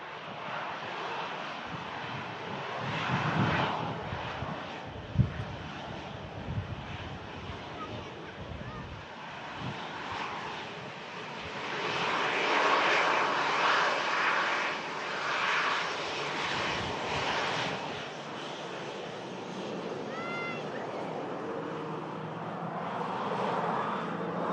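Airliner jet engines spool up at Manchester Airport during a storm, a rising whine and roar mixed with gusty wind noise on the microphone, swelling and easing over time while someone talks intermittently.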